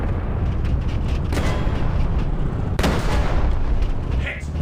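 A tank cannon in War Thunder Mobile, fired from a British Avenger self-propelled tank destroyer at a StuG, booms loudly twice over constant engine rumble and battle noise.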